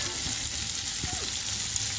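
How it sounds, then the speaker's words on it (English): Bacon sizzles steadily in a pan over a little less than medium-low heat, a constant close crackling hiss with faint stirring scrapes and no talk. "I'm gonna let the bacon cook"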